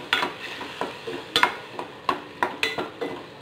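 Beans masala stirred in a pan: a spoon scrapes and knocks against the pan in a steady, repeating rhythm with a faint sizzle underneath, close and clear, with no talking.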